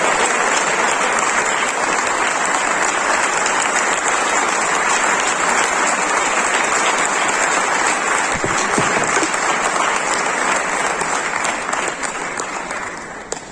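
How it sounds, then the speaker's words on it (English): A large audience at a cricket awards ceremony in Madhya Pradesh applauds in a loud, dense, sustained wave of clapping that carries on for many seconds before easing off at the end. "And now Gaurav, let's give him a round of applause"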